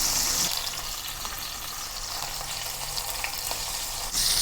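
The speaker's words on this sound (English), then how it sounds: "Pan fry the shrimp over medium heat." Shrimp pan-frying in oil in a flat-bottomed pan over medium heat, a steady close hiss and crackle of sizzling that runs unbroken throughout with no talking.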